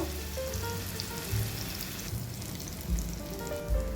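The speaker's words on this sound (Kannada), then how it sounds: "ಈಗ ತುಪ್ಪ ಬಿಸಿ ಆಗುವಾಗ ನಾವು ಮ್ಯಾರಿನೇಟ್ ಮಾಡಿದಂತಹ ಕಿಂಗ್ ಫಿಶ್ ಹಾಕುವ ಈಗ ನಾವು ಇದನ್ನು ಫ್ರೈ ಮಾಡಬೇಕು" Marinated king fish fries steadily in hot ghee with a soft, rain-like sizzle and crackle, fairly quiet and close, with no voice over it.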